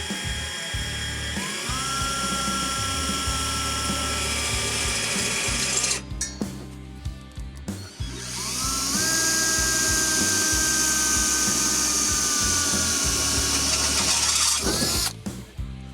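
A power drill bores holes for brackets on a 2025 Nissan Frontier Pro-4X truck, two long close whining bursts with rising pitch as the motor spins up, separated by a short pause.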